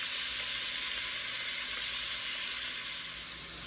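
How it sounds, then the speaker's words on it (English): Oxtail pieces sear and brown in a hot pan for a Cuban-style oxtail stew, giving a loud, steady sizzle that holds evenly throughout and eases slightly at the end, with no talking. "I'm going to get these all brown"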